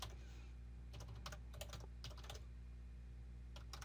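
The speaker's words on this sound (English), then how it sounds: "So I'll just type in the URL" Short bursts of computer keyboard keystrokes as a web address is entered, quick clusters of clicks with pauses, close and clear over a steady low electrical hum.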